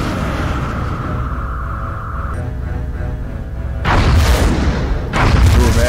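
Aircraft weapons fire at a UFO during an interception in the XCOM: Enemy Unknown video game, heard as deep booming bursts that swell loudly over a droning engine tone.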